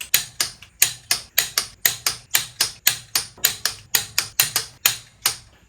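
Torque wrench clicking repeatedly while tightening cylinder head bolts on a Volvo B20 engine during a head gasket job: about fifteen sharp, evenly spaced ratchet clicks, close and loud, with no talking.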